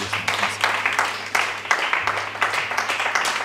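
A church congregation claps along in a steady rhythmic beat while acclaiming the Lord, with crowd voices and a low sustained tone under the clapping.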